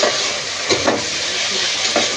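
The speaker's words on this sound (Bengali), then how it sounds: "এখানে কেটে রাখা 2টো টমেটো দিয়ে দেব আর দেব পরিমাণ মতো নুন।" Onions and tomatoes with salt fry in a pan, producing a dense, steady hiss and sizzle with a few brief surges of spattering, close and loud with no talking.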